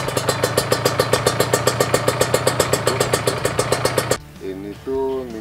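A 2014 Kawasaki Ninja R motorcycle exhaust idles with a steady, rapid pulsing putter, loud and close for about four seconds before cutting off into quieter background noise and a brief voice.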